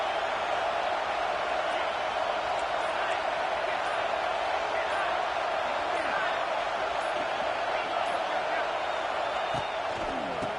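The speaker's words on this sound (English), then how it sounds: "this crowd is fired up. Listen to this noise here." A fired-up crowd at a football game roars in a dense, continuous wall of noise that stays loud and steady throughout, with no let-up.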